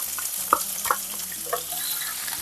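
Onions, green chillies, bay leaves and whole spices sautéing in a pan, with a low steady sizzle broken by a few sharp stirring clinks and scrapes, close and moderately loud.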